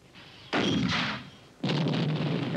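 Detonations of 81mm mortar bombs: two loud, close booming blasts with long rumbling tails, the second following about a second after the first fades.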